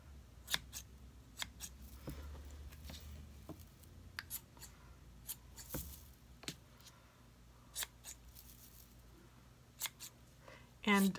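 Scissors snip repeatedly at yarn ends while trimming knitting, a series of sharp, close clicks at an uneven pace with brief pauses, under quiet surrounding sound.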